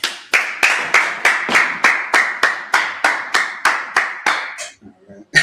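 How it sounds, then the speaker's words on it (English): A group claps in unison at a brotherhood class, about a dozen sharp, evenly spaced claps in steady rhythm, loud and close, ending abruptly. "let's clap it up"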